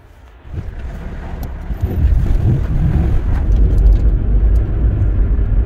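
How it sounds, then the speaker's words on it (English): A car's K series engine running, a steady low rumble that grows louder and fuller after the opening seconds, heavily buffeted by wind noise on the microphone. "Obviously the engine in my car is good, it sounds nice."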